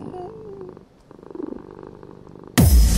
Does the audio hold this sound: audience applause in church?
no